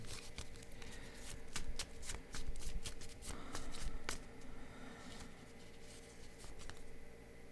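Tarot cards riffle-shuffled and drawn up close in a series of crisp, rapid slaps and flicks, busier at first and then easing into sparser snaps.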